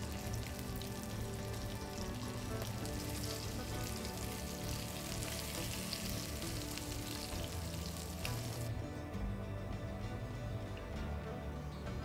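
Prawns sizzle in hot oil with a steady, crackling hiss. Partway through the frying softens and quiets down.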